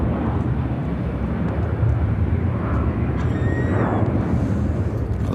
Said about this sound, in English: Southwest Airlines 3036 taking off to Nashville, Tennessee on the